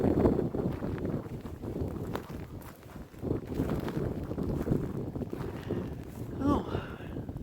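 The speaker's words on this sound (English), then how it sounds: "Hope the wind isn't too bad for you. It's a little windy out here." Wind gusting outdoors on open ground, a low roaring rumble buffeting the microphone continuously, with a voice murmuring faintly underneath.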